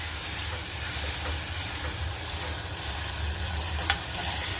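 A mixture with sugar being stirred in a pan for homemade pizza, giving a steady, close scraping and sizzling hiss that runs throughout, with one brief sharp tap near the end.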